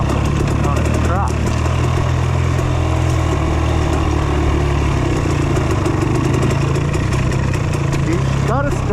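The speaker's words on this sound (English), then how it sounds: "He's out riding dirt bikes now." Honda CR150F dirt bike engine running near a riding track, a loud steady mid-pitched drone that surges slightly at times, with people talking over it throughout.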